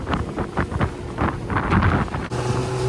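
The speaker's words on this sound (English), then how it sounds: "I don't even know if you can hear me because it's so windy." Strong wind buffets the microphone aboard a Bay Craft 17'5 skiff cruising through choppy water, a loud, roaring, gusty rush with engine and hull noise beneath it and no speech.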